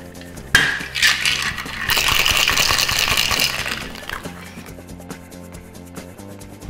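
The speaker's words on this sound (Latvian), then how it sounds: "Kad viss šis ir gatavs, mēs sagratām visu sastāvdaļas šeikerī." Ice and liquid rattle inside a cocktail shaker, a burst of rapid clattering shakes with clinks, with music playing underneath throughout.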